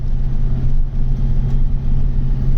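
A 2.8 litre turbo diesel engine running inside a vehicle gives a loud, steady low drone with a strong constant hum and slight swells in level, with no voices over it.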